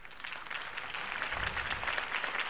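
Steady applause from a crowd in a Batman video game, many hands clapping together in a dense, continuous patter at moderate volume.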